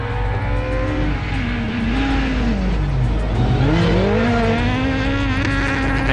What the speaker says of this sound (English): just an impressive sound to hear those cars revving out completely